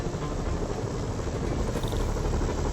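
Helicopter rotor drone from the Spider-Man video game, a steady broadband whir that fills the scene at an even, loud level throughout with no speech over it.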